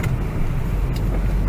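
A car driving along Mira Street in Stavropol, steady engine and road rumble heard from inside, loud and continuous with no talking.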